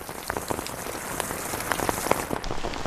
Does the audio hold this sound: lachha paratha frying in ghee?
no